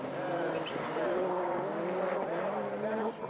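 A rallycross race car roaring past on a track at a European championship round in Germany, a loud close engine whine shifting pitch over a few seconds and fading at the end, with a commentator talking.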